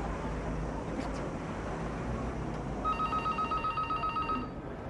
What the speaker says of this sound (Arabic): التليفون روح نجاوب.